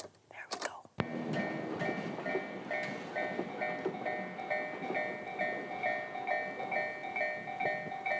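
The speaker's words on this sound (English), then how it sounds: "it's a railroad crossing" A Tokyo railroad crossing signal rings in a steady, repeating two-tone clang. A brief thump comes first, then the bell pattern continues evenly and fairly close over low background rumble.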